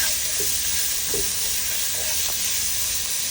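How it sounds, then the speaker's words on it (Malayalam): Chopped onion sautéing with spices in a hot pan for Kolkata chicken biryani, a close, steady, unbroken sizzle with no voices over it. "നമ്മൾ 1 സവാള അരിഞ്ഞത് അതിലേക്കിടും. അതൊന്ന് സോഫ്റ്റ് ആവുന്നവരെ സോട്ട് ചെയ്യുക"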